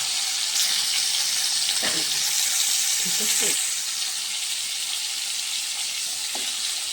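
Pointed gourd (potol), seasoned with salt and turmeric, frying lightly in a pan with a steady, loud, hissing sizzle throughout, joined by a few soft stirring clinks partway through and no voices.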